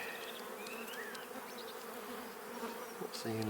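Honey bees buzz steadily over a hive frame holding pollen and fresh nectar, a dense, continuous hum close up with faint higher whines of individual bees passing.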